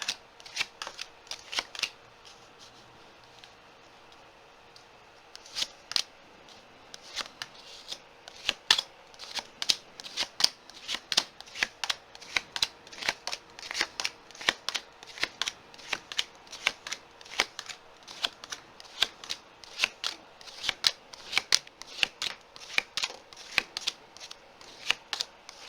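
Tarot cards are shuffled and laid down on a surface in quick, crisp riffles and flicks that come in uneven bursts, close and clear, with a faint voice now and then.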